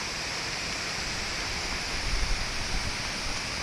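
Elaneeru waterfall in Karnataka, near Hornadu, pours in a steady broadband roar that holds level throughout, with a slight low rumble swelling near the middle, no voices present.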